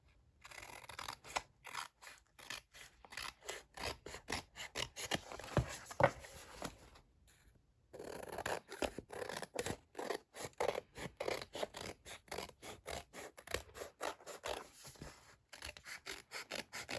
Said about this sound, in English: with your scissors, you're just going to cut off all the extra cardstock